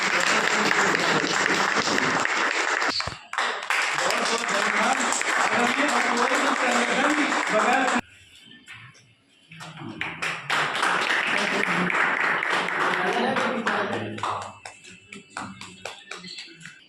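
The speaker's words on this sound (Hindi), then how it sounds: "आप लोगों ने जोरदार तालियां दी।" Loud, sustained applause from an audience at a Hindi poetry event and book launch in Raebareli fills most of the clip, dropping briefly twice before the clapping swells again and then tapers off.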